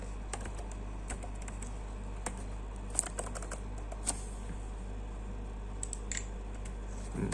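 Typing on a somewhat faulty computer keyboard, scattered sharp key clicks in uneven bursts over a steady low hum, with no talking.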